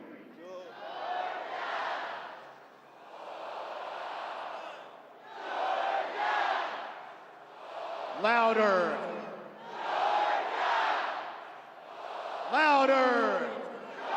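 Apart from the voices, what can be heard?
stadium crowd yelling Georgia Bulldogs cheer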